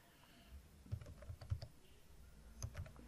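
Sparse typing on a computer keyboard while setting up a database user: a few faint, scattered key taps in small clusters over low background noise, quiet and close.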